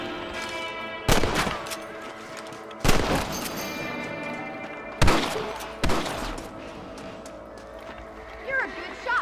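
Rifle gunshots ring out in the Red Dead Redemption video game, four loud, sharp reports spaced a second or two apart, each with a decaying echo, over a soft backdrop of game ambience.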